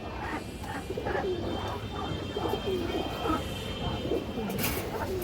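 A ring-eyed pigeon coos, soft repeated low calls close by over a steady background hum, with other birds chirping faintly.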